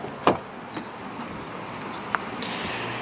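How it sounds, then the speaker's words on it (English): Power side mirrors on a 2017 Lexus GS F Sport fold in electrically after locking, a soft motor whir under quiet ambience with a sharp click at the start and another later. "When you lock the vehicle, the mirrors will fold in."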